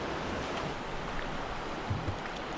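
A very big river about two boat lengths across, its water rushing in a steady, even roar with no voices.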